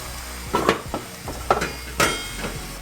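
Pasta salad being stirred with sauce, basil and rosemary in a bowl, giving a handful of close clinks and scrapes of a utensil against the dish at an uneven pace.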